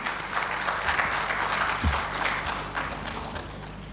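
Steady applause from an audience at a teacher-leadership panel discussion greets a speaker coming on stage, a dense, continuous patter of clapping with a brief low thump partway through.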